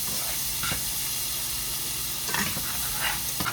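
Salted cream butter sizzles and hisses steadily as it melts in a hot pan before onions and garlic go in, with a few soft clicks and scrapes over the constant frying hiss.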